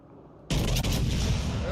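A battleship's main guns fire in the naval video game World of Warships Legends, a sudden heavy boom breaking in after near silence and rolling on as a dense, loud rumble.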